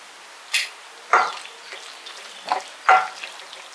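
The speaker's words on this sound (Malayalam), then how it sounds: "കുറച്ച് കറുവേപ്പിലയും കൂടെ ഇട്ട് കൊടുക്കാം കേട്ടോ നല്ല തളീര് കറുവേപ്പില മിക്സ് ചെയ്തിട്ട് നമുക്ക് വാങ്ങാം" Curry leaves are stirred into a squid roast over a low flame, with a few soft scraping stirs and light sizzling spaced irregularly, close and fairly quiet.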